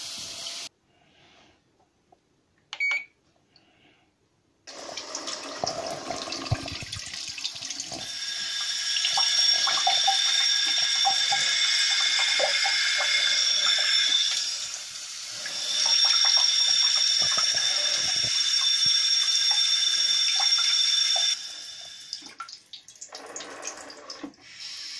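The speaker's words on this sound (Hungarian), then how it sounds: "Azzal a fúvókán keresztül spricceli fel a vizet." A bidet nozzle sprays water in a steady, close rushing hiss that lasts about sixteen seconds, rising and easing slightly midway, with faint clicks and knocks before and after. No one speaks.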